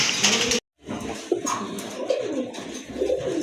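Pigeons coo in soft, repeated throaty calls nearby, continuing after a short cut near the start, with low rustling around them.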